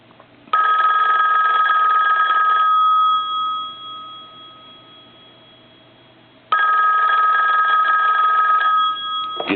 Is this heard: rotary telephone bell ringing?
yes